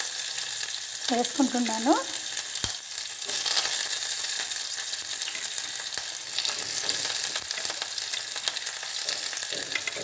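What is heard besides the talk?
onions frying in oil with chillies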